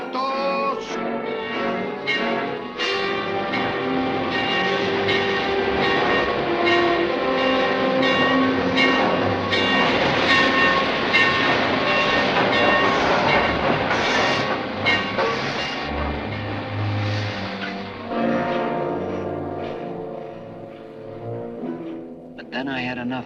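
A train from a 1950 colorized western film rolls steadily along the rails, a continuous rumbling clatter blended with loud orchestral music.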